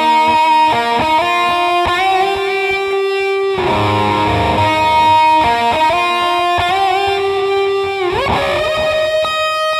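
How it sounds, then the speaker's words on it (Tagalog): Electric guitar played through a Cuvave Cube Baby pedal with reverb and delay, giving distorted, sustained notes and chords that ring into long echoing tails, loud and steady with no talking. "Ang nadagdag lang is reverb and delay."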